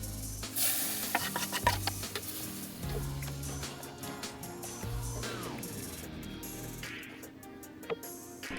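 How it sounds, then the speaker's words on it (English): Roux being stirred into a pot of Japanese potato curry to thicken it, giving steady scraping and bubbling stirring sounds with light sizzle throughout, with soft background music and no talking. "add that back into the curry that we have, stir it up so that it can thicken"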